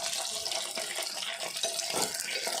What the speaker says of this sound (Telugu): వేగుతున్నాయి కదా చేపలు.